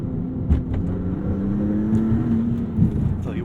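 Maserati MC20 2022 engine accelerating hard in manual mode on a canyon road, a loud, steady rising drone heard from inside the cabin, with a couple of brief thumps and shifts along the way.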